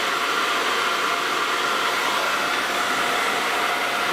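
A Conair Testarossa hair dryer blows at full power, a loud steady airy whoosh with no pauses, heard alone and close up.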